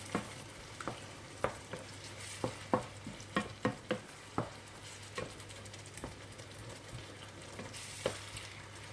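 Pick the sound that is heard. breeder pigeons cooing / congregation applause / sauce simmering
sauce simmering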